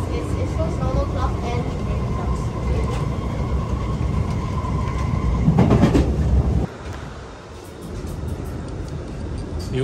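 An SMRT Alstom Movia R151 train on its debut run, rumbling steadily along the rails with clicking wheel noise before the sound drops off sharply as it passes, while people talk nearby.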